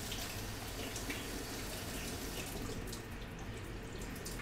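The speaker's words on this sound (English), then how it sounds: "I'm gonna put water inside this Coke can because I can." Water runs steadily from a tap into an aluminium Coke can, a continuous close splashing gush with no talk, filling the can alone.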